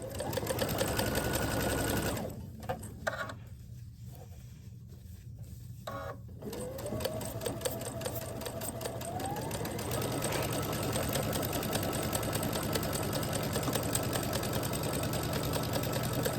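A sewing machine stitches quilt sashing, its rapid mechanical rattle running steadily up close, halting briefly after a couple of seconds, then restarting and continuing without a break to the end.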